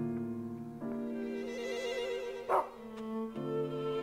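A dog in the video game Rule of Rose gives a single short bark midway, heard over sustained, droning background music.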